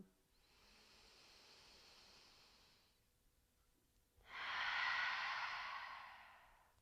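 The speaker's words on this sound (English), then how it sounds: "Open the mouth. Exhale what you don't." Two slow exhalations through the open mouth during a yoga flow, the first a soft, steady breathy rush of about three seconds, then after a pause a louder, fuller breath out, close and alone.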